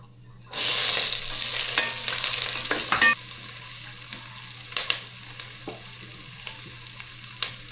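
Garlic and onions dropped into hot oil in a pan for beef kaldereta, bursting into a sudden loud sizzle that settles into a steadier crackle, with scattered clinks of stirring.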